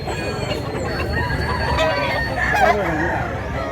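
Roosters for sale at a Cebuano poultry seller's stall crow amid a busy, noisy background, with steady chatter and other fowl clucking nearby throughout.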